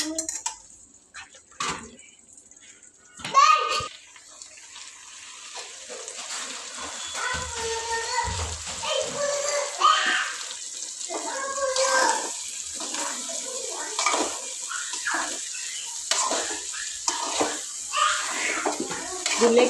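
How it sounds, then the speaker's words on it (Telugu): Water poured from a container into a cooking pot while stuffed brinjal curry with tomato and sesame paste is being cooked; steady splashing and trickling runs close by, with people and someone talking over it and occasional clatter of kitchen pots. "గిన్నెకి తగినంత నీళ్లు పోసుకోవాలి వంకాయ ఉడికేంత వరకు"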